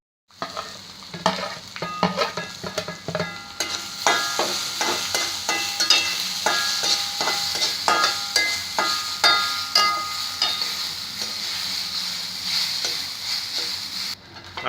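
Mustard seeds, urad dal, red chili and curry leaves sizzle and crackle in a hot pan, with steady close frying hiss and scattered pops and stirring scrapes throughout, no voices.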